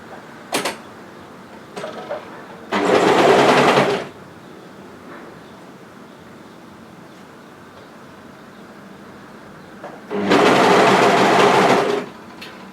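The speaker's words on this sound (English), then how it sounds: "So just overlock as far as you can to secure that without cutting off any fabric" An overlocker stitches a seam in sweater fabric in two loud bursts of rapid motor whirring, each lasting a second or two, with quiet handling and short clicks between them.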